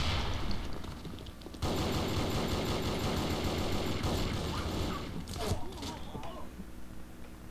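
Machine gun fire in the PC game Sudden Attack, dense continuous rapid shots, loud and close, with a voice talking over part of it.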